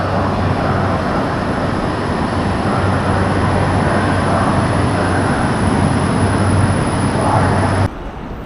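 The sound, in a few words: tram ride in Guangzhou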